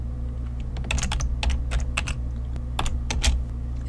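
Computer keyboard keys clatter in short irregular bursts of close, crisp clicks over a low steady hum, as someone types a line of code in Excel VBA.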